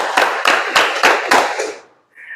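A crowd claps the 'tepuk malam' pattern at a school guidance counseling session: five sharp, evenly spaced bursts of many hands striking together, loud and close, followed by a brief quiet.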